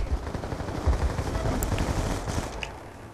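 Automatic gunfire from a Call of Duty match, dense and continuous bursts of rapid shots with low thuds, a steady crackling barrage with no talk over it.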